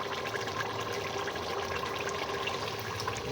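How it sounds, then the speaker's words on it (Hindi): Water pours steadily into a pot of black chickpeas, a dense continuous splashing rush that stays close and even throughout. "अब इसमें पानी ऐड कर देते हैं।"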